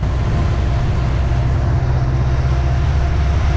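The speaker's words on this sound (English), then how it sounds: "This train is also westbound, heading up toward the pass." A westbound manifest freight train on Montana Rail Link climbs toward Mullan Pass, heard as a steady loud low rumble of locomotives and rolling cars.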